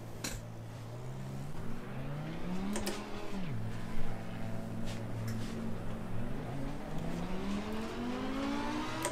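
Racing car engine in the PC game Assetto Corsa Competizione, played on a Fanatec CSL Elite F1 wheel set, revving up and down through gear shifts at a steady moderate level.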